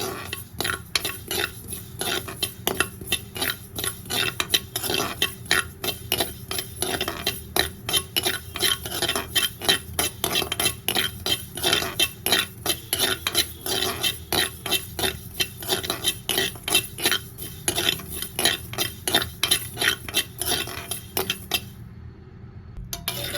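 Black cumin seeds dry-roasting in a pan give a steady, rhythmic scrape and rattle of stirring that continues without a break, then stops abruptly near the end.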